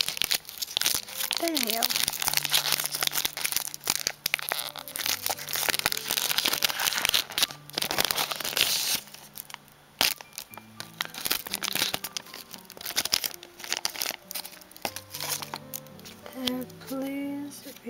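A Pokémon Celestial Storm booster pack wrapper is cut open and handled, crinkling and tearing foil in bursts close to the mic while a person talks over it.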